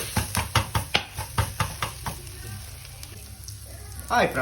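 Kothu roti being chopped on a hot griddle: a fast run of sharp metal blade clanks over steady sizzling, which then quiets to soft frying with a last clatter at the end.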